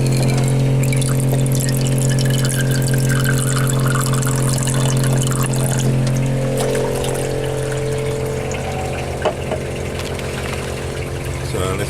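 A steady mechanical hum with running water underneath, like a pump filling a tank, continuous throughout with a faint clunk near the end.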